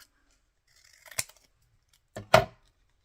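Scissors cut paper for a collage in two distinct close snips about a second apart, each a short crisp crunch against near silence.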